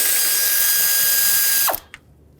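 A ratchet whirs continuously while removing small bolts from the rear valve cover of a 2013-2020 Nissan Pathfinder 3.5L V6. The loud, close whir stops abruptly and is followed by a single click.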